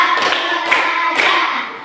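Three distinct hand claps in an even rhythm, roughly half a second apart, are heard up close in a classroom clap game. Their echoes blur into a reverberant wash between the beats.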